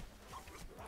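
A pet dog in World of Warcraft lets out a soft, brief whimper as it dies, faint and thin over a low game background.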